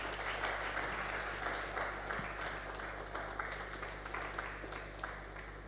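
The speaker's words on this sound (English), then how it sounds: "A round of applause for him, please." A conference audience applauds steadily for about six seconds, a continuous moderate patter of clapping that stays fairly even throughout, with no voices over it.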